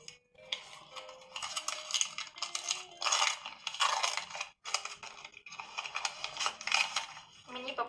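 Crinkly plastic rustling and tearing in close bursts, a packet being pulled open with sharp crackles and brief pauses.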